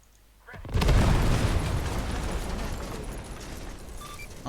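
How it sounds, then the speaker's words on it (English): A deep boom in a video game gives way to a long, loud rumbling roar of blasts and debris that slowly fades, following a brief quiet start. "That's a lot of explosions."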